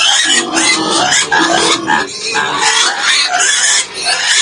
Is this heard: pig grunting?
yes